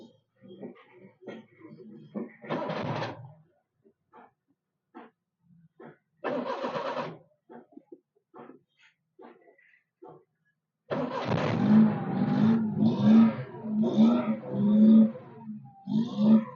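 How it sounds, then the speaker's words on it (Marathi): A Maruti 800 car left parked for many days is cranked over, with several short bursts of the starter before the engine catches and runs roughly, mixed with clicks and rattles. "गाडी चालू झाली"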